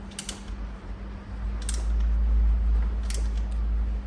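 A tool cracks loose a bolt on the factory chain guard of a 2015 Kawasaki ZX10R superbike, giving three short, sharp creaking clicks at even intervals over a low steady hum nearby.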